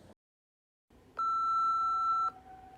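After a recorded voicemail greeting, a single clear electronic beep sounds for about a second, steady and tonal, over a quiet line hiss.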